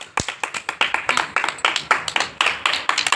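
Several people clap at a small anniversary celebration, producing a quick, uneven run of sharp close handclaps that lasts about three seconds.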